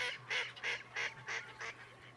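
Five or six loud nasal honks in quick succession from ducks gathered at the edge of ice on a snowy pond, close by, with a faint low hum underneath.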